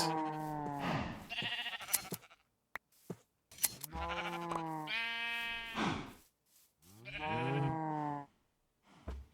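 Sheep in the Minecraft skyblock modpack Ozone Skyblock Reborn 2 let out three long, wavering synthetic bleats, loud and alone, with brief clicks in the gaps between them.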